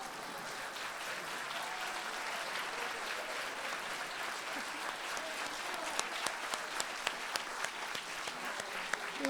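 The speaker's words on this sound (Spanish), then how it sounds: "te llevas la mayor ovación de la Setmana de l'Economia" An audience at an economics week event gives a sustained ovation, dense steady clapping from a sizeable crowd throughout, with a few sharper claps standing out near the end.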